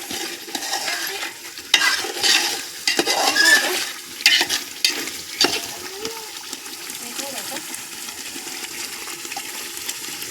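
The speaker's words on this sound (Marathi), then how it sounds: "आता एक दोन मिनटामध्येच आपली ही फोडणी आता मस्त तयार होईल" Tempering (phodni) frying in oil for chicken curry, a steady sizzle with repeated stirring scrapes and clanks of a spoon on the pot, close and prominent, with a voice talking over it.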